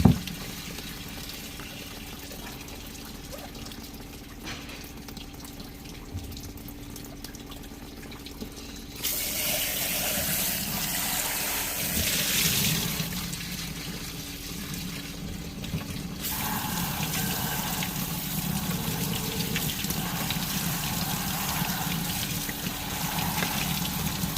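Water poured over polka dot agate pieces from a rock tumbler, a quiet trickle at first that swells into a steady, louder splashing flow, then a continuous pour to the end.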